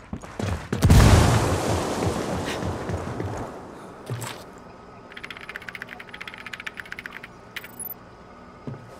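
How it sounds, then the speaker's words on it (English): A frag grenade detonates with a loud, close boom in Ghost Recon Wildlands, its blast rumbling and fading over a couple of seconds, followed by a short thud and a rapid string of quieter clicks and crackles. "Frag out."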